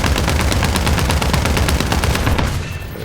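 Aircraft machine-gun fire from an enemy plane in War Thunder air arcade combat: a loud, rapid stream of shots in steady bursts that fades slightly at the very end.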